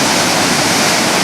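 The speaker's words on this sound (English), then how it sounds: "White Oak Creek" White Oak Creek, behind St. Thomas Church after storm damage, rushes loudly with a dense, continuous roar of water close by.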